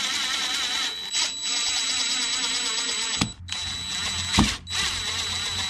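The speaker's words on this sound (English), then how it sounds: "Now I'm going to carefully drill in these screws." Power drill whining steadily up close, driving screws into a speaker bracket in a third-generation Toyota Tacoma door, with brief pauses and a couple of sharp clicks between bursts.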